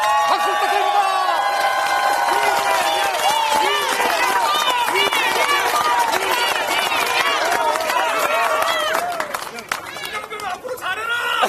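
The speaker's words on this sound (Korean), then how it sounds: "다시 한번 이재명 연호로 박수 부탁드립니다." A large outdoor crowd at a political campaign rally on a historic street cheers, chants and claps continuously and loudly. Many voices mix into a dense roar that fades slightly near the end.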